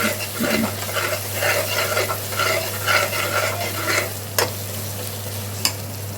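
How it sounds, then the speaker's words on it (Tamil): Green chillies are sautéed and stirred in a pan, a close steady sizzle with rhythmic scraping pulses from the spatula and a couple of sharp clicks near the end, over a low hum, no talking. "3 பச்சை மிளகாய் சேர்த்துட்டு நல்லா வதக்கி விடலாம்."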